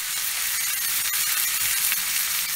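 Close, steady sizzling of beef and pork fat crackling in a hot pan, dense and continuous with small pops throughout.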